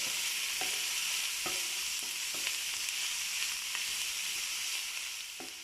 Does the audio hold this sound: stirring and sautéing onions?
yes